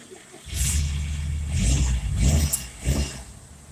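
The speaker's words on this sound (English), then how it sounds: "Rev a freshly started engine." A freshly started car engine on a high-horsepower build is revved in several swells, a close, loud low rumble rising and falling about four times.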